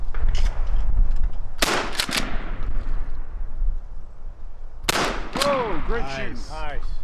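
A Mossberg Bantam 20 gauge shotgun fires at sporting clays outdoors, two sharp, loud blasts in quick succession followed after a pause by another report, with people talking and calling out afterward.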